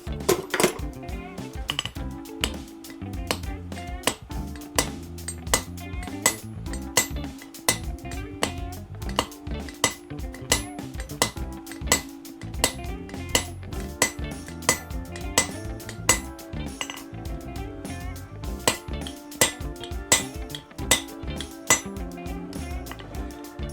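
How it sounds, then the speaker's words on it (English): Steady, ringing hammer blows on hot steel as the end of a crowbar is upset and flattened while being forged into a chisel, struck in a fast, regular rhythm, loud and close, with no talking. "We're just gonna upset that end a little bit, just to make it a little flatter of a surface to strike."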